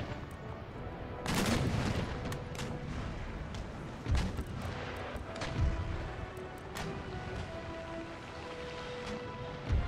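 Heavy booming cannon fire from sailing warships in Empire: Total War, a big broadside burst early on followed by several separate deep blasts amid a dense rumbling battle ambience.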